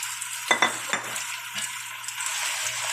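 Chicken and onion frying together in a pan, a soft continuous sizzle punctuated by a few metallic scrapes and clinks of a utensil early on; no speech.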